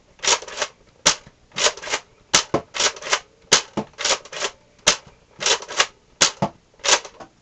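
A Deploy CS-6 toy foam blaster fires repeatedly, with sharp close snaps and whooshing bursts in a regular rhythm of shots and pumping about once a second.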